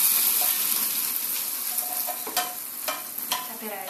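Hot garlic oil hits crushed bird's eye chilies for sambal bawang, giving a steady close sizzle with a few sharp spattering crackles toward the end and no talking.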